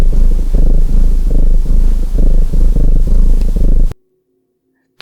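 A cat purring steadily and up close in low, rhythmic rumbling pulses for about four seconds, then cutting off abruptly into near silence.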